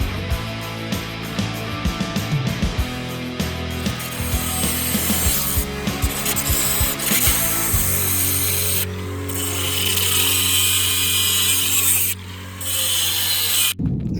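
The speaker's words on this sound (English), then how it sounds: "Then I can go cut it with the angle grinder and start shaping it." Angle grinder cutting sheet metal for a rusted Mustang door repair, a loud steady whining grind with a harsh rasping edge that shifts in pitch as the blade bites, running almost continuously with short dips.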